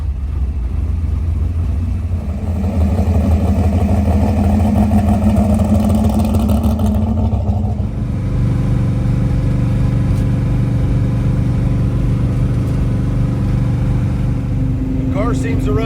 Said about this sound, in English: I decided to take the car around the block for a little test drive.